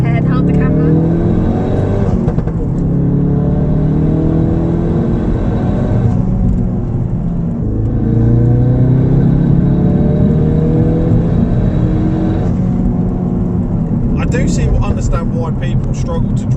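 Ford Focus RS Mk3 375 engine accelerating hard from inside the cabin, a loud steady roar rising in pitch through the gears with brief drops at shifts, a voice talking over it.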